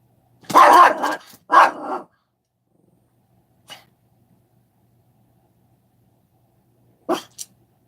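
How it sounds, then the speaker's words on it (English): A pet dog barks in short bursts at birds outdoors, two loud clustered barks followed by a faint yip and two more brief barks after pauses of near silence. "She's barking at the birds because she wants to eat them"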